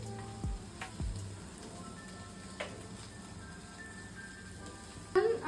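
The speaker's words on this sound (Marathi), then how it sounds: "सॉस लावण्याच्या आधी आपण पहिल्यांदा चपातीला थोडेसे बटर मध्ये फ्राय करून घ्यायचे आहे।" A chapati fries in butter in a pan. A faint, soft sizzle runs throughout, with a few light knocks from handling, and a louder clatter comes near the end.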